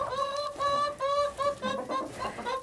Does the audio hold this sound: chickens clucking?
yes